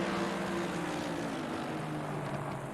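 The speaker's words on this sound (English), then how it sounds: "I love that the chopper cam in this game actually makes helicopter noises." A helicopter drones from the chopper camera in Assetto Corsa Competizione at Silverstone, a steady loud rotor and engine hum that holds without break.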